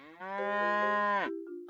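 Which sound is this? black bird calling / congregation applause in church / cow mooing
cow mooing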